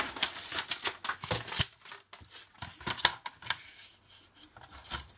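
Scissors snip through paper for a scrapbooking folio pocket, a close series of irregular crisp cuts and rustles, some bursts quick and clustered, others spaced by brief pauses.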